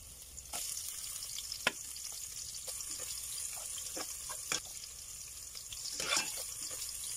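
Ingredients for sinigang sa maya-maya being sautéed in a pan, giving a steady close sizzle with intermittent stirring clatters and scrapes.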